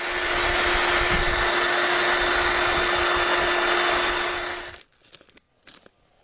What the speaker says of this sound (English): I'm going to take a hair dryer and dry these out completely